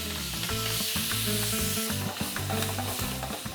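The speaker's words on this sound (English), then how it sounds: "add your prawns straight into the pan" Prawns frying in a pan after baby zucchini has been cooked, giving a steady, close sizzle that holds continuously throughout, with faint stirring and tonal music underneath and no talk.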